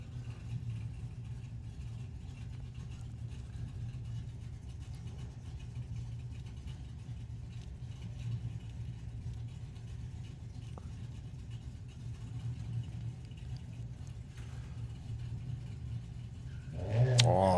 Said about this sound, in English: Sylvia Purcell with the Mustang taking on Ben Jeffries' Nissan 370.